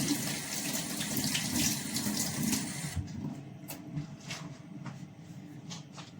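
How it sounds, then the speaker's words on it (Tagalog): Tap water runs steadily into a sink as hands are washed in a home kitchen while leche flan is being made, a broad continuous gush for about three seconds before it cuts off, leaving quieter clinks and faint handling sounds. "Siyempre, hugas lang tayo kamay."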